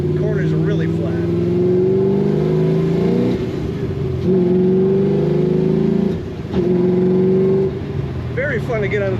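A 1967 Pontiac Firebird Pro Touring accelerates under throttle, its loud, close engine note rising through long pulls and briefly dipping between them.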